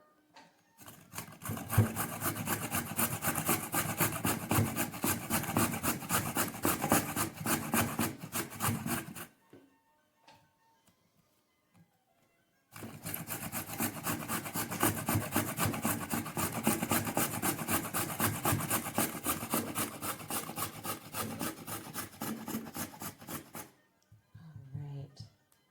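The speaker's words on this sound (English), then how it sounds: "So my grater got full of carrot" A carrot is grated hard by hand on a grater in two long bursts of steady, rapid rasping strokes, close and loud, separated by a short pause.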